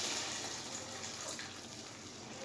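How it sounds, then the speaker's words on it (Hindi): Water pours steadily into a pot of rice, masoor lentil and potato pulao, a soft continuous hiss close by that ends with a brief louder splash. "अब हम इसके अंदर जो पानी है वो ऐड कर देंगे"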